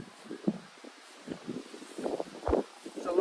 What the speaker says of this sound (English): it's a lovely evening, just a bit windy